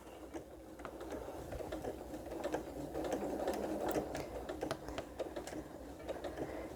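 A sewing machine stitches through the pieced fabric of a cathedral window pillow, a fairly quiet, steady rapid mechanical chatter of needle strokes heard up close with no talking.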